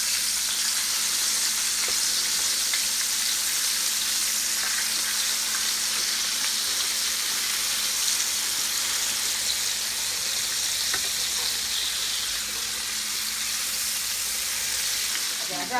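Spicy chicken pieces for a homemade chicken sandwich sizzle steadily in hot frying oil, a dense, even crackle lasting throughout with a few faint knocks as the pieces are turned.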